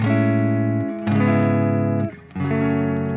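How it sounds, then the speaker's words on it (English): A descending chord walk-down on electric guitar from a song: several distorted chords ring in turn, each held for about a second with short breaks between changes, no voice over them. "So here's the real walk down."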